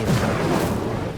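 The Incendio fire spell cast in Hogwarts Legacy makes a loud, brief rushing whoosh of flame with a booming low rumble that holds for about a second and then drops off.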